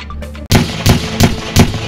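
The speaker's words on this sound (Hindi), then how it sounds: "प्रयागराज कुंभ मेले में संतों के हर्ष फायरिंग का मामला सामने आया है" Celebratory gunfire by sadhus of the Ananda Akhara at the Prayagraj Kumbh Mela 2019: four loud, sharp shots spaced roughly evenly, each with a brief echoing tail, following a short stretch of quieter background noise.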